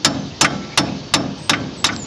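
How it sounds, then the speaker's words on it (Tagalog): Steady hammering to drive out a king pin on a C-190 truck: six sharp metallic strikes at an even, unhurried pace, close and loud, with no talking. "Kaunting pukpok lang po mga kabagis yan pagka ganyang tanggal na yan."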